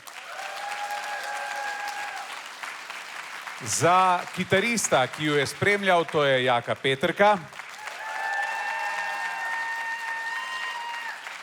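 A concert audience at Čudež življenja 2025 claps for the performers, with a steady wash of applause that stops while a presenter speaks, then swells again afterward.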